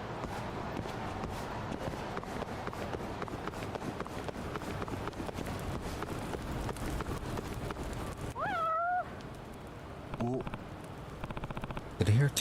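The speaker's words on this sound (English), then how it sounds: "Did I hear a cat just now?" A tabby cat meows in the video game Judgment, a short rising-and-falling meow standing clear above steady footsteps and street ambience, followed by fainter, briefer cries.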